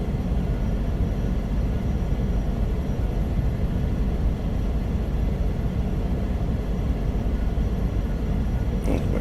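An airliner taxis toward the runway in Microsoft Flight Simulator 2024, a steady low engine rumble with broadband whine holding constant and unbroken throughout.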